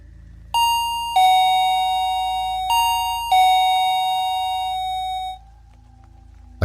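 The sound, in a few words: doorbell ringing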